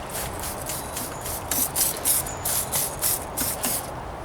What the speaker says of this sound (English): that's mostly why I use a spray bottle when it comes to prepping the vehicle for paint